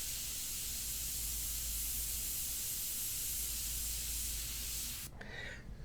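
An airbrush sprays India ink onto paper in a steady, close hiss that runs unbroken for about five seconds, then cuts off abruptly, leaving only a faint, softer residue of air.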